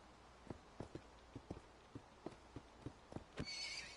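A Minecraft horse clip-clops in a loose series of sharp hoof taps, about ten in four seconds, ending with a brief whinny.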